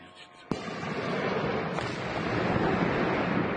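Air defense fire against drones over Podolsk near Moscow at night, a sharp blast at the start followed by a loud, sustained rumbling roar with another faint thud partway through.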